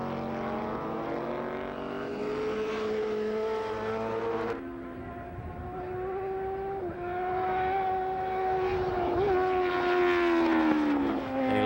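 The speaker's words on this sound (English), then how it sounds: "Listen to the sound of that FWS Honda. Quite a distinctive sound." An FWS Honda superbike races at Laguna Seca, its engine wailing loud and sustained as it revs through the gears, the pitch climbing and dipping with each shift, with no voices.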